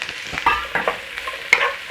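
Onions and vegetables being stir-fried in a hot pan, with a steady sizzle broken by sharp utensil scrapes and clacks against the pan, close and fairly loud, no talking.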